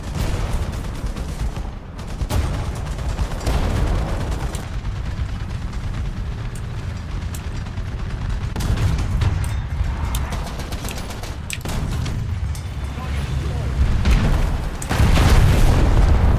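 Tank gunfire in War Thunder's ground battles: repeated heavy booms and blasts over a constant rumbling engine bed, with several loud sharp reports and a big blast near the end.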